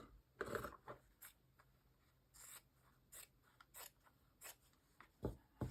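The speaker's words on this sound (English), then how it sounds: "I'm going to cut the extra off, again leaving a little bit" Scissors snip through a tea-stained cotton bed sheet in a string of separate, crisp cuts with short pauses between them, close and quiet, with no talking.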